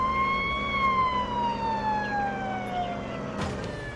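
A police or emergency vehicle siren wails in the Police Simulator video game, a loud, near, steady tone sliding slowly downward over a continuous background.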